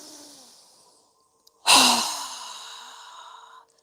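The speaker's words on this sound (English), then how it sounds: "So go ahead and inhale. Strong exhale." A strong breath out through the mouth during a yoga breathing exercise, a loud close whoosh that fades over about two seconds, following a softer breath.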